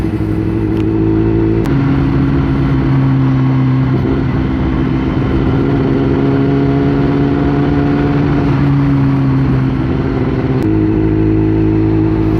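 Motorcycle engine and exhaust heard while riding, a steady low drone that stays loud and close for the whole stretch, with small shifts in pitch as the revs change and no speech over it.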